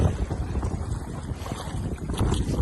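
Wind buffets the microphone in steady low rumbling gusts while a boat rides on Siriu Lake, with faint water movement beneath.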